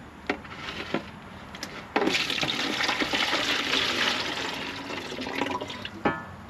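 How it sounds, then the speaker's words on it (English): Water pours and splashes out of a water filter housing during a filter replacement, a continuous gushing spatter with a few sharp knocks and drips over it. "as you can see, all the water falling."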